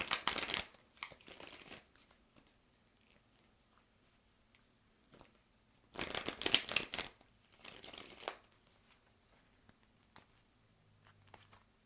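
Tarot cards are shuffled in several quick bursts of crisp riffling, separated by quiet pauses, close and fairly soft with no talking.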